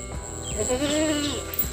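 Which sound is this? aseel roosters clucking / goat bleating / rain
goat bleating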